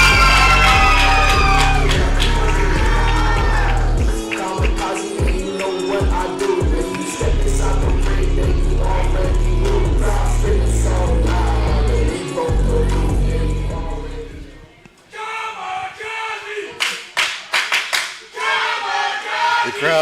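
A wrestling crowd at a ProSouth Wrestling event cheers, claps and shouts for Kamikaze. A loud, sustained roar of applause and whoops fades in the last seconds to scattered claps and calls.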